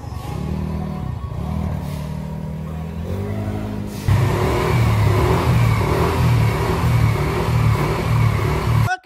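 An old Yamaha Mio Sporty scooter with a 58mm bore-up idles with a low, throaty rumble, then revs up sharply on a test drive and keeps growling loudly, its pitch rising and falling in steady pulses.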